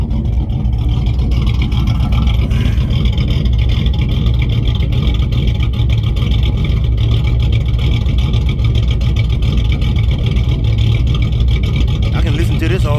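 A car engine with a Holley 600 cfm carburetor idles steadily around 700 RPM, a loud, continuous, close-up rumble with a slightly uneven lope.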